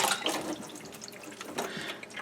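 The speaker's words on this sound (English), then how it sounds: "So we're gonna go ahead and rinse this off." Running tap water streams steadily into a double sink while a rabbit hide is rinsed underneath, close and moderately quiet, with splashing shifts as the hide moves through the flow.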